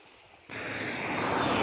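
A cold river rushes through the village at Hisar Ilıca. A steady broadband roar swells in abruptly after a brief quieter moment and stays loud and continuous.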